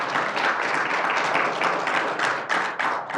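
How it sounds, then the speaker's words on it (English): An audience at a journalism ethics panel claps steadily for the panelists, a dense roomful of hands applauding for a few seconds with no voices over it. "let's give these folks a round of applause for sharing this expertise with us"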